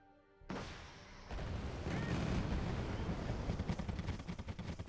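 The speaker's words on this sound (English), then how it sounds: "Let's start hitting the back line here with our artillery." Artillery barrages in the real-time strategy game Wargame: AirLand Battle, with a dense, rolling rumble of distant booms that builds after a short quiet start and keeps thundering without a break, with no voices over it.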